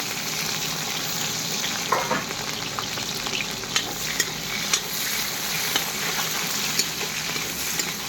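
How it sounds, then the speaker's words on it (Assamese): Steady, close crackling sizzle of onions and green chillies frying in hot oil, with occasional light clicks of stirring. "বৰ্তমান তেল গৰম হৈ গ'ল, এতিয়া পিঁয়াজ আগতে ভাজি কৰি লওঁ।"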